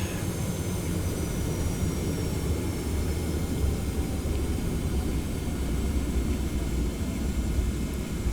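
Steady, dense jet engine rumble from a TFDi 717 taxiing, a continuous low drone with a faint high whine holding evenly throughout.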